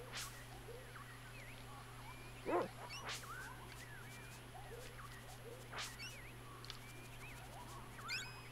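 A dog in the Secret of Evermore video game gives a few sparse yips and barks over a steady background hum, moderately loud, with no talk.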